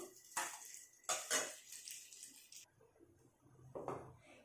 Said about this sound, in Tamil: நம்ம இதை ஒரு பிளேட்டில் எடுத்து வச்சுக்கலாம்